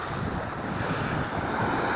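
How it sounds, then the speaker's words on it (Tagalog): A sea breeze rushes steadily across the microphone on a bayside walk in Calamba, a continuous windy wash with no voices. "Napakasarap ng simoy ng hangin"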